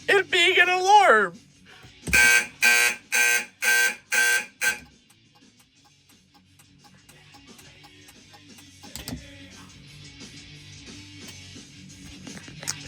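A fire alarm panel sounds: a brief rising and falling sweep tone, then six loud, evenly spaced electronic beeps. The beeps give way to a low steady hum with faint background noise.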